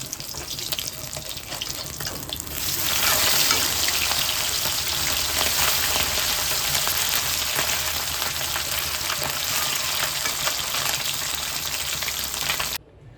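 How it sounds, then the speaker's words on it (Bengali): Fish frying in hot oil in a pan, a loud steady sizzle that swells after a couple of seconds and holds evenly close by, with no one speaking. "তো ঝটপট করে মাছগুলো ভেজে নিলাম"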